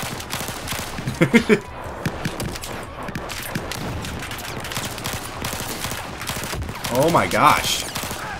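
Rapid gunfire in the video game Battlefield 4, bursts of automatic shots and explosions in a busy battle mix while a player exclaims over the top.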